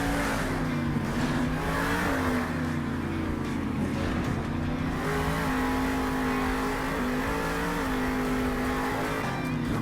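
Monster trucks driving off into the desert in the Monster Jam video game: a loud, sustained engine roar with wavering revs, steady and close for the whole stretch.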